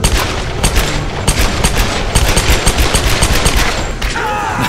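Dual pistols blaze in the Tomb Raider video game, firing loud, rapid volleys of close shots with heavy booming thumps, nearly continuous for several seconds before easing off.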